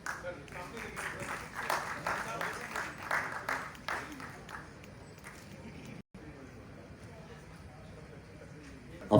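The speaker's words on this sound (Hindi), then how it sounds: "पेप्सी के लिए बहुत सारी तालियां जिन्होंने परफॉर्म किया" Applause for performers at an arts council music and drama show, a dense patter of many hands for several seconds that fades into quieter room noise.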